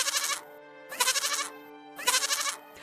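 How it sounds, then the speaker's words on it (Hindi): Three loud, wavering goat bleats, each about half a second long, sound one after another with short pauses between them and no voices. "बकरी की आवाज आने लगी"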